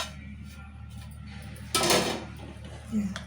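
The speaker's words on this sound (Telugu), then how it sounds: "మేము మూత తీసుకున్నాను" A lid comes off a cooking pot of puntikura pappu, a gongura dal finished with a tempering, giving one brief clattering scrape midway through a quiet kitchen hum, with faint voices in the background.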